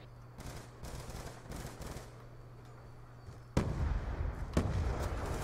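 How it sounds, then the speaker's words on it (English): Gunfire in Call of Duty Black Ops 2, rapid bursts of automatic shots crackling in quick clusters, muffled at first and then a louder, closer stretch of sustained firing. "He is pre-firing."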